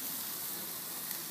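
Potatoes and onions frying on a MEATHOOKS grill give off a faint, even sizzling hiss that holds steady for a moment with no talking.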